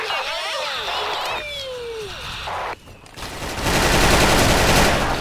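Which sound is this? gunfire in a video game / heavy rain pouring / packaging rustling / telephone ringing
gunfire in a video game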